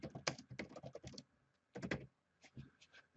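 Fingers type on a computer keyboard in quick bursts of close, crisp key clicks, pausing briefly and then resuming with a few more scattered taps.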